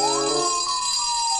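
An electronic toy fire truck siren wails in rising and falling tones, loud and close, with a bright buzzy edge and no talking.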